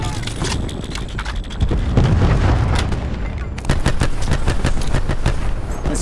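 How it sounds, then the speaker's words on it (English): A cluster grenade is thrown and bursts into a rapid string of explosions during a Black Ops 4 multiplayer match. The booms come loud and close in dense volleys over constant battle noise, with a short gap midway. "Cluster grenade going out."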